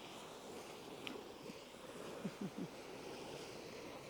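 Soft, steady wash of distant surf with a constant low hiss, faint and continuous, broken by a few brief quiet chirps.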